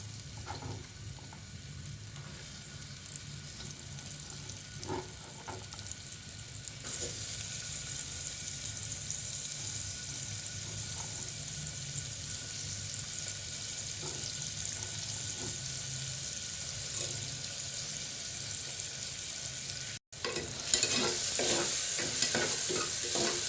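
Onions fry in hot oil with a continuous close sizzle and occasional stirring scrapes. The frying gets brighter and hissier partway through and louder again toward the end.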